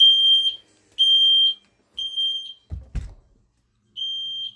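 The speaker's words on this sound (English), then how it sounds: "We're going to be testing the Fire Angel smoke alarm over there." A Fire Angel smoke alarm under test emits loud, piercing high-pitched beeps in a repeating pattern of about half-second tones, with a couple of low knocking thumps between them.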